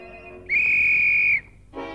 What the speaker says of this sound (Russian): свистни изо всех сил. Вот так.